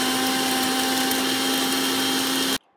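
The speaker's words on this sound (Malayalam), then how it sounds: "കുറച്ച് വെള്ളം ഒഴിച്ചിട്ട് നന്നായിട്ടൊന്ന് അരച്ചെടുക്കും മിക്സിയിൽ അരച്ചെടുക്കാം" An electric mixer grinder grinding coconut with a little water into paste for a Kerala bottle gourd curd curry gives off a loud, steady motor whine that cuts off abruptly just before the end.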